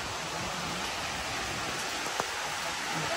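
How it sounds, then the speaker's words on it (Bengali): Rain falls steadily in the late morning, an even, continuous hiss of drops with no pauses, moderately loud and with no voices over it. "এখনো বৃষ্টি পড়ছে"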